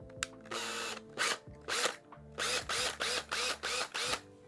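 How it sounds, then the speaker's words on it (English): A power drill fitted with a 1/8 inch bit pre-drills holes for a door closer install at a door jamb, whirring in about nine short, loud bursts with brief pauses between them. "then you can put the drill in the chuck, 1/8 inch"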